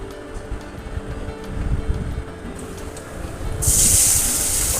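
Chopped onions frying in hot oil in a pan with bay leaves, cinnamon and cardamom, a steady close sizzle that grows louder and brighter partway through.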